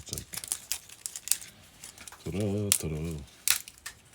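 Brittle 40-year-old hard plastic is crunched off an old Honda wiring harness by hand, giving close, sharp crackling snaps and crinkles throughout, with a short burst of speech in the middle.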